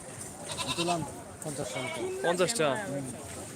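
Goats bleating at a village neighbourhood goat market, several wavering bleats close by, overlapping with people talking.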